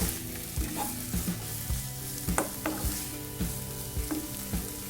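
Chopped ginger is stirred into sizzling chicken handi in a restaurant-style pan, the steady fry hiss broken by rhythmic scraping spoon strokes about twice a second, close and fairly loud.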